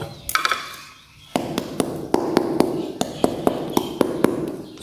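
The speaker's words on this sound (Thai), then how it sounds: "ก็น่าจะสุกแล้วเดี๋ยวเคาะดูก่อนนะครับ" A ripe-looking durian from a southern Thai orchard is knocked repeatedly, giving a string of about a dozen sharp, close hollow taps in a fairly steady rhythm.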